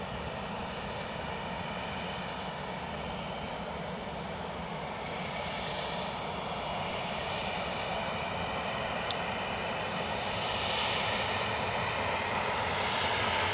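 A Ryanair jet from Dublin roars steadily while taking off or landing at Edinburgh Airport, a broad continuous engine rumble heard from some distance that swells gradually louder, with a faint wind-like hiss and no talk.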